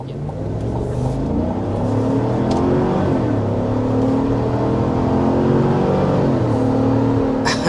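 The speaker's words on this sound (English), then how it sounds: "by the sound of it, I can imagine you guys realize that it is not a 4-cylinder or a 6-cylinder. This is a V8." A 2025 Ford Expedition full-size SUV's V8 engine pulls hard to 60 mph, a loud, steady rising drone with rich low harmonics that holds throughout without pause.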